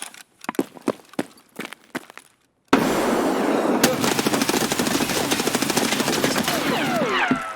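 Escape from Tarkov gunfire: a few scattered footstep-like taps, then a sudden long burst of rapid automatic suppression fire, loud and close, with faint chatter beneath.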